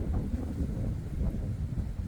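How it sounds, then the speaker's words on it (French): Strong wind during a thunderstorm at La Buisse, Isère, roars and buffets the microphone in a loud, continuous low rumble. "Ouah, ce vent."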